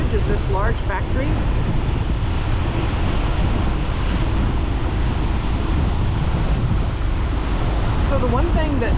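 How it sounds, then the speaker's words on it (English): Strong wind buffets the microphone nonstop on a boat cruising a river between Chicago and Joliet, with a roaring low rush, water wash and faint passing voices under the gusts. "we are surprised, at how windy it is"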